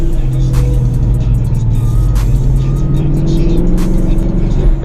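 A Ford Mustang GT/CS with Corsa mufflers pulls away under acceleration, its loud, close engine droning steadily with a slight rise in pitch partway through.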